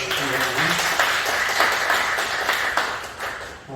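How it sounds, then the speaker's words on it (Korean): A church congregation applauds during a Sunday service, a dense burst of clapping that holds steady for a few seconds, with a voice briefly audible at the start. "박수 한번 해주세요"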